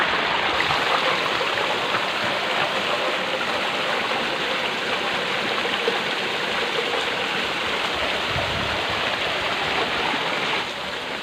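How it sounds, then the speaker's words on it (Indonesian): The Jeneberang river in the Lohe valley of South Sulawesi streams steadily, a continuous rushing and burbling of flowing water heard up close with no talk. "Ya ini sungai ini Jeneberang"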